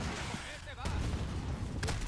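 Gunfire aimed at the player in Modern Warfare, dull booming shots and distant bursts over a constant rumble of battle noise, with faint voices underneath.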